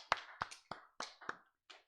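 A small number of distinct hand claps during a Korean Full Gospel church Sunday service, about six separate sharp claps spaced irregularly, fairly faint and close, with no talk.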